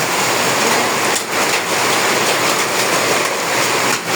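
Dense, loud clattering patter of hailstones on a tin roof in Ashulia, a constant hard drumming, with brief surges and no voices.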